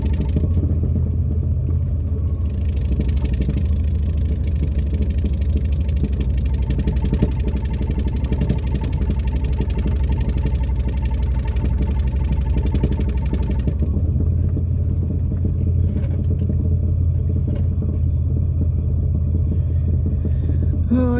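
A 1978 Pontiac Sunbird Formula, parked for ten years, runs steadily near the microphone with a deep, continuous low rumble at idle, a brief rise in revs in the middle and no talking over it.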